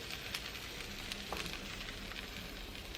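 A lobster grilled cheese sandwich sizzling on a hot grill, a steady close crackle of frying that holds even throughout with no talk over it.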